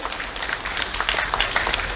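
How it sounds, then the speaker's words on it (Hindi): An audience at an event in Odisha breaks into applause for the Prime Minister, a short burst of close, crisp clapping from many hands. "दबा कर ताली दे कि आमो प्रधानमंत्री जी को धन्यवाद दियंतु"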